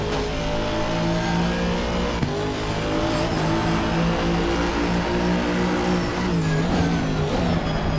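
An Aston Martin GT race car in Assetto Corsa Competizione at Oulton Park, engine droning steadily with rising and falling revs through gear changes, brief tire squeal, loud and continuous with no talking.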